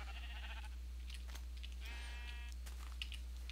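A Minecraft sheep bleats a few times in short calls over a constant low hum, with faint clicks around it.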